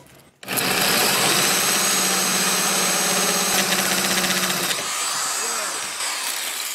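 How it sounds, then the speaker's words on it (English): A drill bit grinding through rebar in a ferrocement house wall, a loud continuous whirring drone that cuts out near the end, with a voice heard faintly. "So I really didn't want to cut through a rebar."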